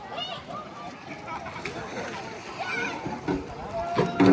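A person wades into a small lake below black cliffs, water splashing and sloshing around them at close range for a few seconds, with louder splashes near the end.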